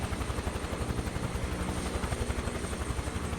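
A Huey helicopter in the game MS Flight Sim 2024 roars continuously with a rapid, steady rotor thump under dense engine noise, loud and close throughout.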